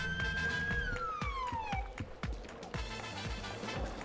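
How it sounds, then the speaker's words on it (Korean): A police boat siren in GTA V wails with a falling tone over a steady engine rumble, loud and continuous throughout. "사이렌 있어요"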